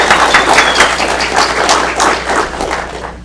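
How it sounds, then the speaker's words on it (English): An audience at a startup incubator graduation event applauds, a dense, loud round of clapping close by that holds steady for a few seconds before easing slightly. "Let's give a round of applause for our"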